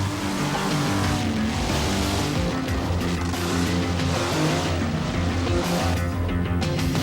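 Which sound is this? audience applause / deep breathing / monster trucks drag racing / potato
monster trucks drag racing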